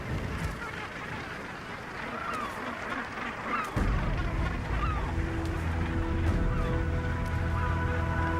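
Geese honk and call repeatedly at a distance, joined midway by a steady low engine rumble.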